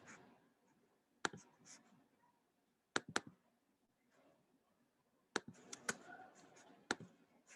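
Computer mouse clicks, a few sharp, faint, close clicks scattered irregularly, some in quick pairs, against a quiet room with soft background sounds.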